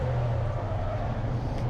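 Racing cars lap the Brands Hatch GP circuit in a Trackday Trophy race, a steady loud engine drone with a sustained low rumble and a higher whine holding near-constant throughout, no voices.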